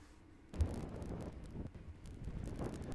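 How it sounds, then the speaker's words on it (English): Steady Typhoon Hagibis wind buffets an outdoor camera microphone in Tokyo, rumbling low with gusts that swell and fade, no voices. "the gusts are really taking its effects out on that camera"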